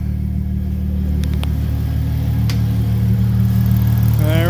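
A turbocharged V6 Mustang engine runs at a steady idle, a close, continuous mid-pitched hum with a low rumble, with a brief higher whine rising at the very end.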